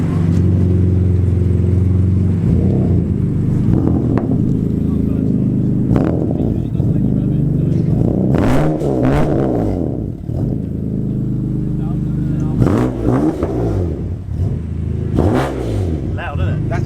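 A loud car engine revs hard in repeated surges, each bark rising and falling over a constant rumble, close by, while people talk underneath the blips.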